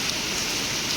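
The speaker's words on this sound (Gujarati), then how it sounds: "આ બાદ તો વરસાદ ફૂલ ચાલુ થઈ ગયો છે" Steady heavy rain pouring down over open farm fields, a dense continuous hiss with no breaks across the whole second, close and fairly loud with no voices.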